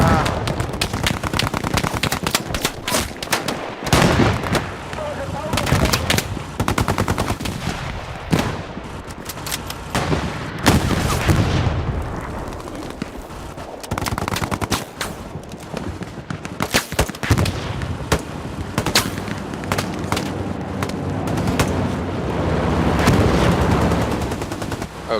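Dense World War II gunfire in the online shooter Hell Let Loose, with rapid machine-gun bursts and single rifle shots crackling almost nonstop, while a player shouts and talks over the battle.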